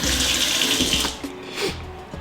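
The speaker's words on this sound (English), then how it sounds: "you want to rinse off your green pepper and your red pepper in cool water" Cool tap water running over green and red peppers in a sink, a steady close splashing stream with brief handling knocks as the peppers are turned under it, no speech.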